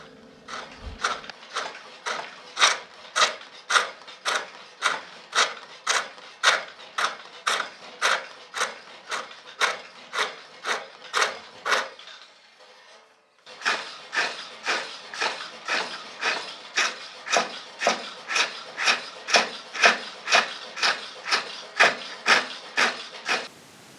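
Spring pole lathe cutting shapes into a wooden furniture leg: about two dozen evenly spaced, scraping cutting strokes, each rising and falling, with a brief pause midway before the strokes resume close and steady.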